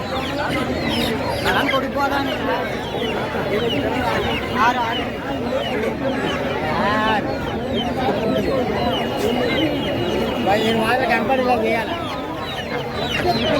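Many chickens cluck and squawk together in a busy crowd at a Dasara-season village market near Anakapalli, with people talking throughout amid constant chatter.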